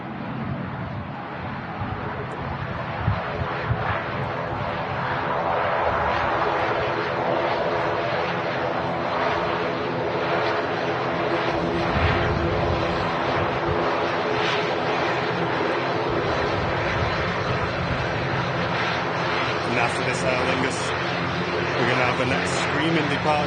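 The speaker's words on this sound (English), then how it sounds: "Departure, an A330 from Virgin Atlantic out to Atlanta." A Virgin Atlantic Airbus A330 departing from Manchester Airport toward Atlanta, a loud continuous jet engine roar holding steady over the whole stretch, with voices talking over it.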